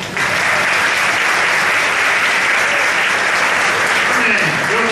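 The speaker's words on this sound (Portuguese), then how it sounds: "Uma salva de palmas para o semeador da fé." Loud, sustained applause fills a hall at a church men's congress, close and continuous, with faint voices under the clapping near the end.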